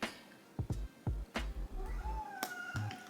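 A pet cat meows several times in quick succession, short close-up cries mixed with soft thumps and rustling, fairly quiet in an indoor room.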